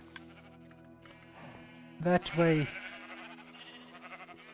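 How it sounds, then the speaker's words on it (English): A video-game sheep bleats loudly twice at close range in a farming setting, briefly overlapping a voice that speaks a couple of words. "2 shears for every sheep."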